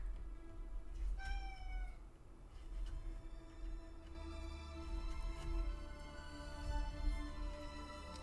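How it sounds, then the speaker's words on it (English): A cat meows a few times with rising and falling tones in a craft room over a steady low background hum, the calls fairly close and clear. "So those meows that you hear,"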